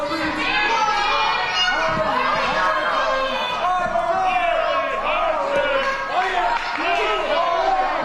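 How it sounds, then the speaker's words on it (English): A wrestling crowd at a Spokane Anarchy Wrestling show cheers loudly for its heavyweight champion, dense shouting and chatter from many voices filling the hall without pause. "The crowd is just going wild knowing that they have Harley Hartson as their heavyweight champion"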